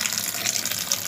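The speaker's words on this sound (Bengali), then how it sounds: "এখন পটলগুলোকে এখন ভালো করে ধুয়ে নেব" Tap water runs steadily and close by over pointed gourds being washed in a sink after their seeds were scooped out; a continuous hiss with light splashing throughout the short burst.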